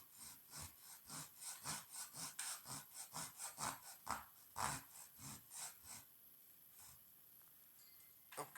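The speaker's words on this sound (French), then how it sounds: "j'ai commencé à amorcer une coupe d'onglet avec la grosse denture" Japanese Ryoba micro saw using its coarse teeth to start a miter cut in wood: a steady run of about twenty rhythmic rasping back-and-forth strokes, close and clear, pausing briefly before a final stroke.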